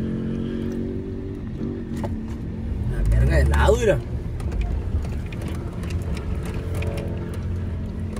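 A car revving its engine on sand dunes, a low rumble that swells into a rising, straining roar mid-clip before easing back to an idle drone, with people talking over it.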